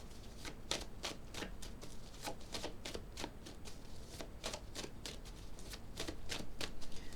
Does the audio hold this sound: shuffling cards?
yes